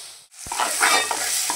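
Onion with a coarse ginger, garlic and green chili paste stir-fried in a pan for pav bhaji, giving a steady close sizzle with scraping spatula strokes after a brief pause.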